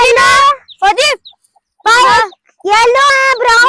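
Aseel chickens in a village poultry yard give loud, close, throaty calls in irregular bursts separated by short silences.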